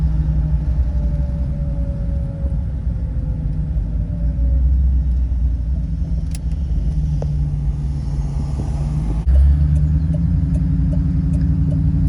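An old OBS Ford work truck rolls along a road, its engine giving a low, continuous rumble with steady road noise and a brief louder bump near the end, close and loud with no talking.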